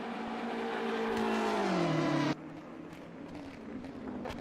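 A BMW M6 GT3 race car in a racing game, running flat out down the Mulsanne Straight at Le Mans: a loud, steady engine drone climbs in pitch, then cuts sharply into a lower, rougher note at a gear change.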